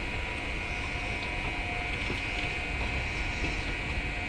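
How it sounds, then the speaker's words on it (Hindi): Special train arriving at Ayodhya Dham Junction, a steady low rumble of rolling wagons with a faint clattering hum, continuous and moderately distant with no talk. "अयोध्या धाम जंक्शन को आने वाली ट्रेन देखिए चलाई गई है विशेष ट्रेन"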